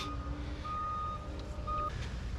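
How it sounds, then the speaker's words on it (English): Steady electronic reversing beeps from construction machinery, repeating at a regular pace over a low rumbling engine drone. "Love the sound of beeping construction equipment for 2 years straight."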